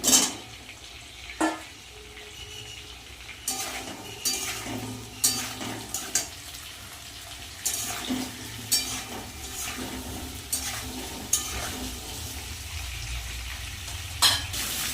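Potatoes and elephant foot yam fry in oil with a constant bright sizzle, punctuated by frequent rhythmic scraping stirs of a spatula against the pan, close and clear, with no talking.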